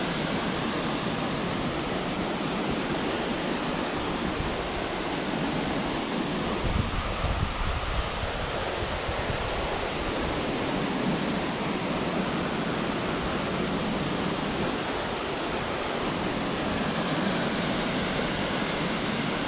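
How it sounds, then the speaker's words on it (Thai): Haew Narok waterfall in Khao Yai National Park roars in full flow, a dense, steady rush of falling water that fills the scene continuously, loud and unbroken, with no voices. "น้ำตกเหวนรกนะครับมีน้ำกำลังสวยเลย"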